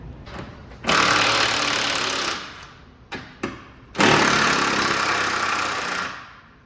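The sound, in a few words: Ford F-150 engine cranking with a weak battery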